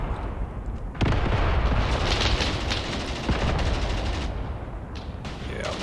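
Machine gun fire in the war game Graviteam Tactics, sustained rattling bursts that kick in loudly after a brief lull and carry on through a thick battle roar with distant booms.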